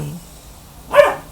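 A new puppy gives a single short bark at mid-distance, one brief burst standing alone in an otherwise quiet indoor room with low background hum.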